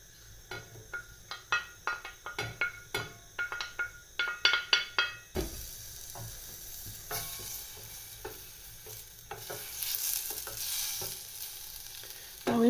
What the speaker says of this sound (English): I've got some butter in there, I'm just going to melt that.